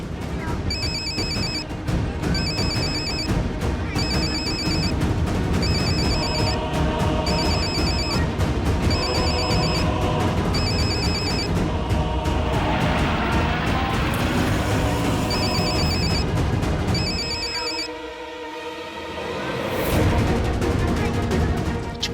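A telephone ringing in repeated bright electronic bursts, loud and steady over a dense bed of background music and noise, with a short pause near the end.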